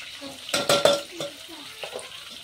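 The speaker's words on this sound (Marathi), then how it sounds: "कांदाही टाकून झालाय, छान फ्राय करून घेऊया असं मस्त" Onions added to a pan with ginger-garlic paste and green chillies, heard as a few sharp clattering stir strokes with a soft frying hiss underneath, close and moderately loud, no talking.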